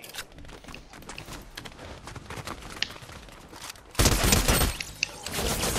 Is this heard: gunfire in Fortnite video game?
yes